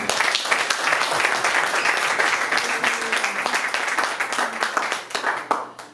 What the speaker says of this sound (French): Est-ce que nous pouvons acclamer pour le roi des rois?